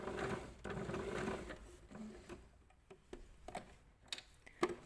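A sewing machine stitches felt applique for a pencil case, turned slowly by its hand wheel. It runs in a steady mechanical whir at first, then breaks into sparse, separate clicks and ticks with frequent pauses, close up with no talking.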